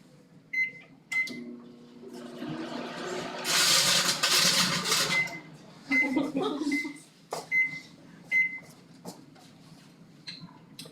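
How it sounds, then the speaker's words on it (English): An old microwave oven, about 27 years in use, hums steadily with repeated short beeps and a louder whirring surge partway through, recorded up close indoors. "This microwave has been doing this for 27 years."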